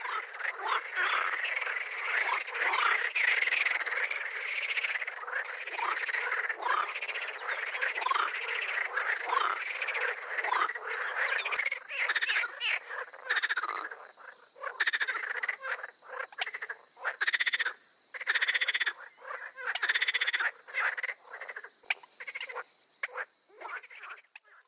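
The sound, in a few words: green frogs croaking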